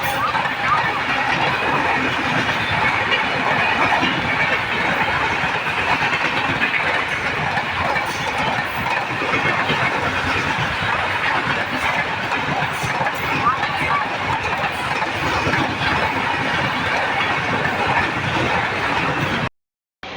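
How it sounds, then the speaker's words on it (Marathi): A Diva–Sawantwadi superfast train runs with a steady, loud rumble and rhythmic clatter of wheels for about twenty seconds before the sound cuts out abruptly near the end. "ही समोर येताना ट्रेन ही सुपरफास्ट ट्रेन आहे"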